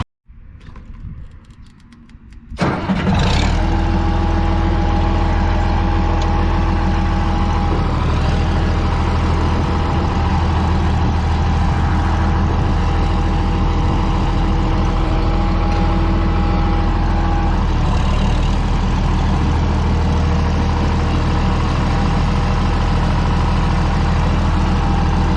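A Minneapolis Moline G955 tractor engine cranks and catches after a brief quiet moment, then settles into a loud, steady, low idle that runs on without interruption.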